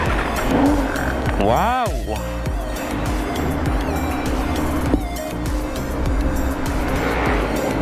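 An inline-four big bike engine revs hard with rising and falling pitch sweeps and a loud, continuous mechanical roar, and a rider's voice speaks briefly over it.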